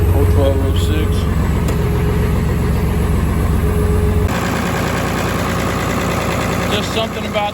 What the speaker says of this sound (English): Just something about the way this motor purrs compared to all the other ones.